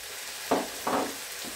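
A spoon stirs dry spices, meat seasoning, mixed spices, salt, oregano, black pepper and dried mint, in a pan for spaghetti sauce, making two or three short scraping strokes over a steady background hiss.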